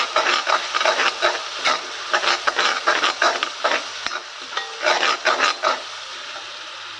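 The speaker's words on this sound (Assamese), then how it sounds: "এইখিনি মই যিখিনি আদা নহৰু জলকীয়া পিঁয়াজ গোটেইখিনি একেলগে এটা পেষ্ট বনাই লৈছিলোঁ সেইখিনি অকণমান ধুনীয়াকৈ অলপ টাইম ভাজি নিছে" A ginger, garlic, green chili and onion paste fries in a pan while being stirred, giving rhythmic bursts of hissing and scraping close by.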